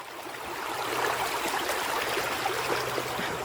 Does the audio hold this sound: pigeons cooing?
no